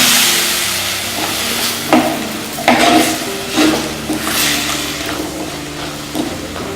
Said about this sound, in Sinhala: දැන් මේ ජම්බු ටික අපි හොඳට තෙම්පරා වුණාට පස්සේ අපි මේකට වතුර මේස හැඳි දෙකක් වගේ එකතු කරගන්නවා.